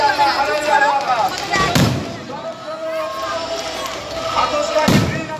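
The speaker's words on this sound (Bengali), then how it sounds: "আতশবাজি গ্রিন আতশবাজি প্রদর্শন অসাধারণ" Green fireworks bursting over a town display at night, two deep booming thuds a few seconds apart over a steady crowd murmur and talk.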